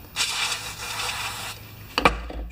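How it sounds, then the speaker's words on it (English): A cloth rubs and wipes steadily across an engine valve for over a second during valve lapping, then a few sharp clunks and a brief spray hiss close by. "gonna wipe off the valve, spray it off."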